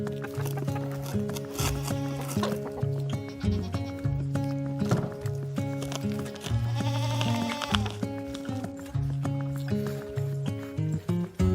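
Goats with their week-old newborn kids on an off-grid homestead bleat repeatedly, with drawn-out calls close by over a steady tonal background.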